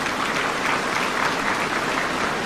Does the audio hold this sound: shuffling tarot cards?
no